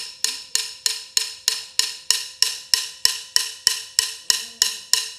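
Drumstick rebound strokes played with a loosening grip, about fourteen evenly spaced sharp taps over five seconds, each bright crack ringing and decaying briefly, close and alone with no talking.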